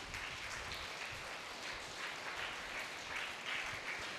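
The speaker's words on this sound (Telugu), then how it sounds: "మరి గట్టిగా చప్పట్లు కొడదాం మన ఫుడ్కి" Children clap together for a breakfast of pongal and idli at a summer camp, a faint, steady wash of applause heard from some distance that lasts throughout.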